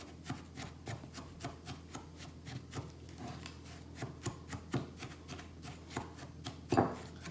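Oat and honey scrub mixture being stirred by hand, giving soft, repeated scraping and tapping strokes in a steady rhythm, close and fairly quiet, with a louder knock near the end and no talking.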